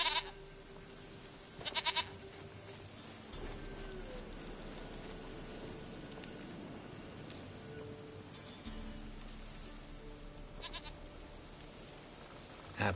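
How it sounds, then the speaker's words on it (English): A goat bleating in the video game The Witcher 3, a few short bleats rising over a dense background wash of rain-like ambience and game music. "Goat of mine, dearest, sweetest goat."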